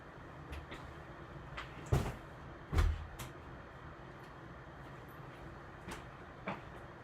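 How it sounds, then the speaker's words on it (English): An indoor door is shut, with a couple of sharp knocks and thuds, then faint clicks and small knocks against quiet room noise. "Let me shut the door."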